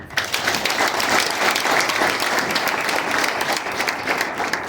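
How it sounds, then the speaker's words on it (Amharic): Church congregation clapping for the Lord, a dense continuous burst of applause filling the room, fairly loud and even throughout, with no distinct ululation standing out. "እስኪ እልልታና ጭብጨባ ለጌታ"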